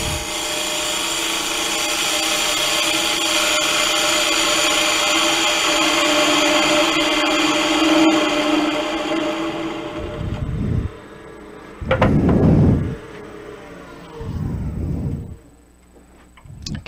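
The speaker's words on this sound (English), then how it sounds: "a lot of this surface is probably going to get turned away as I shape my profile" A wood lathe turning a peppermill blank spins with a steady high whine and rough cutting hiss, then the motor cuts out, leaving short bursts of scraping and rumbling.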